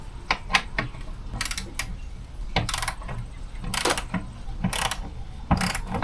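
Ratchet wrench clicking in short bursts while bolts holding the stereo trim panel in a van are loosened, several separate runs of rapid clicks close to the mic with brief pauses between.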